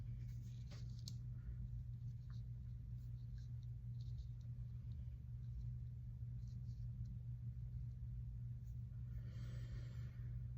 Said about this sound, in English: there's a school bus out there